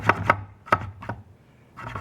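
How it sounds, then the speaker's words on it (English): A knife trims an extra wooden shim in a workshop: a few sharp, close cutting snaps in quick succession, a pause, then a softer scraping cut, with no talking. "So I just take my knife, trim that"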